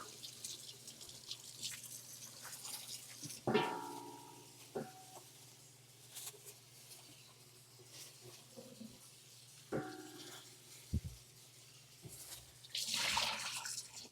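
Faint tap water runs and splashes in a kitchen sink while meat and bones are rinsed, with scattered drips, clatters and handling knocks over a steady low hum.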